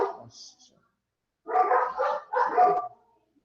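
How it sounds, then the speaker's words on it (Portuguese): A dog barks several times in a row, fairly close and loud, with a brief yip at the start and then a burst of three strong barks, alone without talk. "Você vai ter que mostrar esse cachorro pra nós depois"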